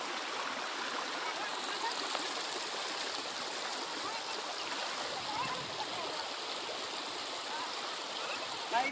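Water pours down Alkudur waterfall in Similipal as a constant, dense rushing roar that stays steady and fills the whole stretch, with no voices heard over it.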